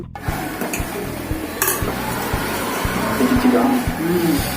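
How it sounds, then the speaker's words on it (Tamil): A spoon knocks and scrapes rhythmically around a cooking pot over a steady bubbling sizzle, with a voice briefly heard near the end. "கிண்டி விட வேண்டிய இல்லையா"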